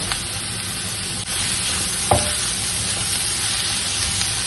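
Green chillies and curry leaves sizzle steadily in a hot pan while being sautéed for a Kerala-style upma, a continuous close frying hiss with a brief stirring clatter partway through and no talking.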